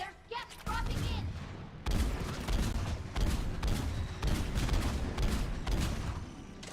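Gunfire in the Mass Effect video game: rapid, loud bursts of shots in repeated volleys, close and continuous, with heavy booming impacts and a brief voice near the start.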